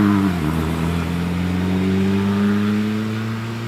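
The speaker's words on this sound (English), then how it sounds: "Julian Hindle in the noisy MG J2 Supercharged 5506" A supercharged MG J2 vintage sports car climbs a hill-climb course, its engine loud and close with steady harmonic drone, a brief dip in pitch early then a sustained rising whine as it accelerates away.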